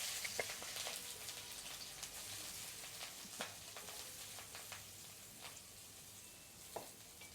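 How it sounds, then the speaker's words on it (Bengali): Chopped onion and green chili frying in hot oil, a soft continuous sizzle with scattered crackles and light stirring taps, close but quiet, with no talk. "তেল গরম হয়ে গেছে, এখন আমি দিব পেঁয়াজ কাঁচামরিচ কুচি।"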